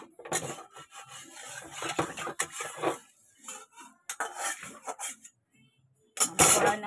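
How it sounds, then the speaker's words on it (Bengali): A kadai is scrubbed and rinsed before cooking fish curry, with repeated rubbing and scraping strokes in short bursts, pauses between them, and a louder splashy scrub at the end. "তার জন্য হচ্ছে কড়াইটা ধুয়ে নিচ্ছি।"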